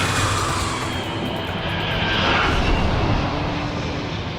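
Airliners taking off and landing at LAX airport, a loud continuous jet engine roar that builds slightly midway and fills the whole stretch without talk.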